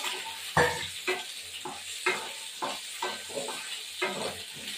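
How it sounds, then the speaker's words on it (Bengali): Small potatoes frying with salt in a kadai, a steady sizzle under repeated scraping strokes of a spatula stirring them, close and moderately loud, with no talking. "নুন দিয়ে আলুগুলো একটু ভেজে নেবো"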